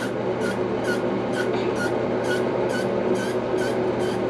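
Quick hissing bursts of a pump spray into a stuck Moen Posi-Temp shower cartridge repeat in a steady rhythm, about two per second, over a constant low mechanical hum.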